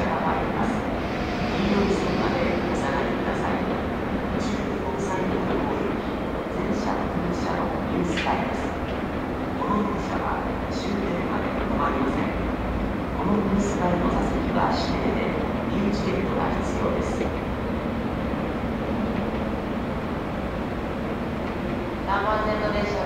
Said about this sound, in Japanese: 3番線に電車が参ります。